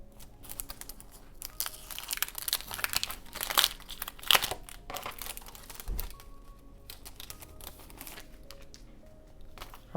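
Paper and plastic packaging from a Simply Gilded Fancy Fete stationery subscription box crinkles and rustles up close in irregular bursts, with a few sharper crackles in the middle and no talking.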